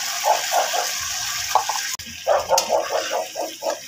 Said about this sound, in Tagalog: Lagyan natin guys ng konting tubig.